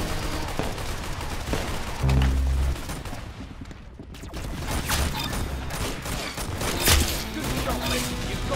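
Rapid gunfire in the Roblox game Arsenal crackles throughout in dense, loud bursts over game music and effects, with a short lull midway.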